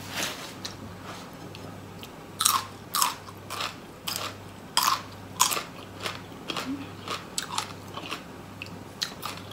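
Loud, close crunchy bites into a big mouthful of khanom jeen with green curry and mixed vegetables like broccoli, corn, carrot and bamboo shoot, several sharp crunches followed by steady chewing, no talking.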